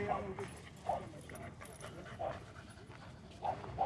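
A dog at a dog park plays with a rope toy, giving short high whimpers and yips at intervals over panting and low background noise, with muffled voices nearby.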